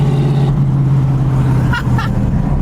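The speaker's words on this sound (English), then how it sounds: "we are driving 8-ball with a blower" A supercharged 8-ball car with a blower engine on the move, its engine giving a loud, close, steady drone with a strong low hum. Brief higher whines rise and fall near the middle.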